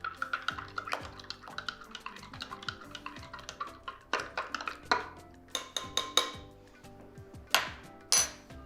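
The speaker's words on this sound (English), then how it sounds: "give that a really good mix until the sugar's all dissolved" A spoon stirs sugar into coffee in a glass, clinking against the sides in quick repeated taps and scrapes, fairly close and moderately quiet, with no talking.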